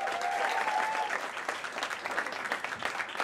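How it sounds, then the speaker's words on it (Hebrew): An audience applauds at a stand-up comedy show, a dense burst of clapping that starts strong and tapers slightly with flickering peaks, heard fairly close with no talking over it. "איפה מחיאות הכפיים שלכם?"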